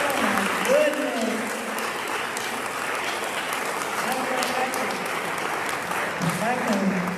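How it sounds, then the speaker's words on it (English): An audience at the Irving Bunton Music Festival applauds the musicians with sustained, even clapping from a sizable crowd, and voices call out over it. "Give them another round of applause."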